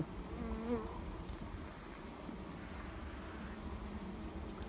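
Honeybees hum steadily around an open hive while a beekeeper checks frames and feeds cake in late winter; a dense, continuous buzz fills the whole stretch, close by, with no talk.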